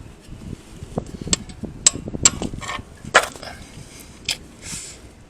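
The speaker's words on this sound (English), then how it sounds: "so I'll try to use a hammer" Several sharp metallic hammer blows, roughly four spaced strikes, land on a socket wrench fitted to a Honda Ridgeline's oil drain bolt, heard close up with faint clanks and shop noise between them.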